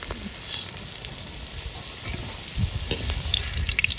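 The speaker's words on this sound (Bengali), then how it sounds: "আলুগুলো তো ভেজে নিয়েছি লাল লাল করে" Potatoes fry in a pan for a chicken biryani, a dense, close sizzle with stirring scrapes that grows busier and louder toward the end, and no voices.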